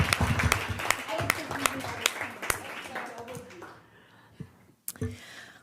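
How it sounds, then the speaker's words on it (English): Audience applause at a school board work session, a burst of clapping for several seconds that thins out and fades, with a few scattered claps after it and a voice talking near the end. "Thank you for that nice round of applause"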